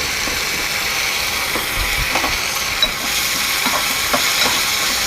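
A tempering of spices with asafoetida sizzles steadily in hot oil for an ivy gourd chutney, a dense, continuous hiss with faint crackles and no talking.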